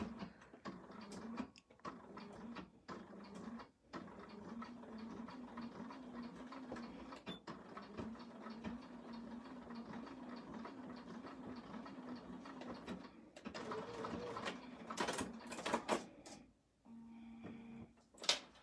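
An embroidery machine stitches a zipper clutch in the hoop with a low, steady mechanical hum and rhythmic needle ticking, fairly quiet and continuous, with a few clicks and handling noises near the end.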